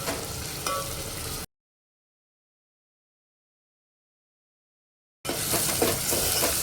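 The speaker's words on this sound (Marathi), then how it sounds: "टोमॅटोला छान परतून घ्यायचं आहे" Finely chopped tomato sautéing with onions in a pan for Kolhapuri misal, crackling and sizzling with stirring, broken by a long stretch of total silence before the frying sound returns louder.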